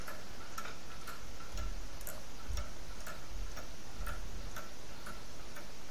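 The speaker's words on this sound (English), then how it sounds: "I'd like to show you a clock that I've printed with my 3D printer." A mechanical clock 3D-printed in plastic with a few metal parts ticks steadily, with evenly spaced crisp ticks from the escapement close by over a low background hiss.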